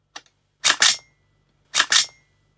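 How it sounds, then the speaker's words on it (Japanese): Two sharp metallic double-clacks, the charging handle of a Tokyo Marui MTR16 G-Edition airsoft rifle pulled back and released, preceded by a faint small click, close and crisp against quiet. "チャージングハンドルを引いた時の音も一緒かなと思ってたんですが"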